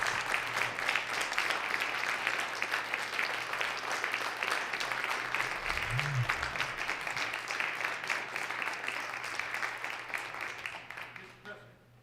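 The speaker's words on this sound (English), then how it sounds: "Senators, if you would, please give these outstanding young individuals a giant round of applause." Senators in a state senate chamber give a sustained round of applause, a steady crowd clapping that runs for several seconds and then tapers off at the end, with a brief low murmur partway through.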